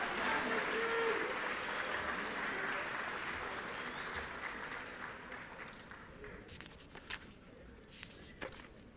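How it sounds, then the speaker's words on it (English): Applause at a Year 12 school graduation ceremony: a dense, sustained round of clapping from the audience that gradually thins and fades, with a few scattered claps near the end. "a big round of applause for Nishal"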